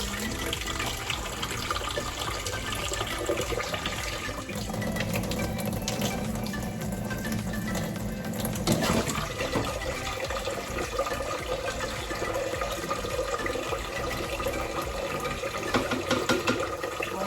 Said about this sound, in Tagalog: So, syempre, tutubigan natin ito.